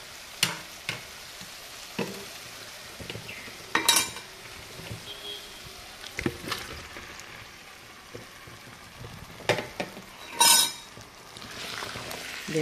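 Chicken liver, marinated with salt, chili powder, turmeric and ginger-garlic paste, fries in a pan with a steady sizzle. Sharp clinks and scrapes of a spoon against the pan come and go as it is stirred, with no talking.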